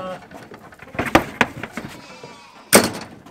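Sheep bleat during shearing on a farm, several short loud calls spaced over a few seconds, mixed with people talking and background noise.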